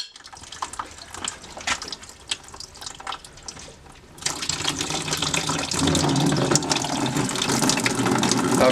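Water from a well pressure tank pipe drains into a bucket, first trickling and splashing unevenly, then surging into a louder, steady gushing pour.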